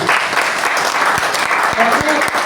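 A crowd applauds loudly for a speaker at a gathering, dense steady clapping throughout with a voice talking over it.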